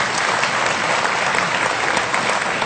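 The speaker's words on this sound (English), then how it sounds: "I knew if you ever clapped, it would be the wrong moment." Convention audience at a freethought gathering breaks into steady, dense applause that fills the room continuously and loudly, with no talk over it.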